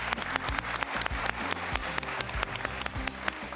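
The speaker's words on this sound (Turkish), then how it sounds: "şöyle bir alkışın tadını çıkartın ya" A studio audience at a cooking show season finale claps in a dense, steady burst of applause, close and lively, lasting a few seconds.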